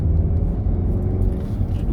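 Steady low rumble of a manual-transmission car cruising along, heard from inside the cabin, a constant engine and road drone with no gear changes standing out.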